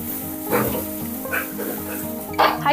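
Potatoes fry on a high flame with a steady sizzle, broken by several bursts of stirring and scraping in the pan. No one speaks.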